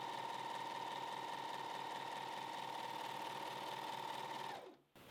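A Janome 1100D Professional serger stitches 100% quilting cotton, a fast, steady, close mechanical whir running evenly for several seconds before abruptly winding down and stopping.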